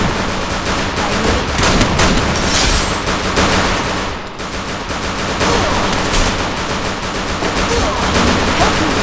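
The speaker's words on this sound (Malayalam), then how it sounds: "ലാബിന്റെ അകത്ത് പടക്കം പൊട്ടിക്കുന്നത് നമ്മള്." Firecrackers burst inside a lab in a loud, rapid, crackling barrage that runs almost without a break, with one short lull about midway before the dense popping resumes.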